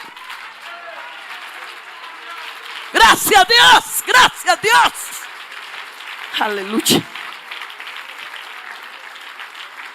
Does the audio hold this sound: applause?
yes